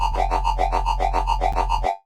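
A riddim synth bass made in Phase Plant wobbles in a tight, even triplet rhythm over a heavy sub, pulsing about eight times before stopping cleanly.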